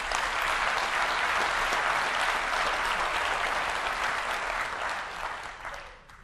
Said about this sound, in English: let's give them a big round of applause to all of the speakers of this year's conference